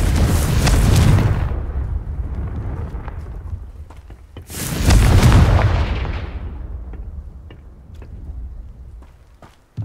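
Two loud fiery blasts from the Confringo explosive spell in Hogwarts Legacy, each a deep booming burst that rumbles and fades over a few seconds, the second several seconds after the first, with faint clicks and ambience between.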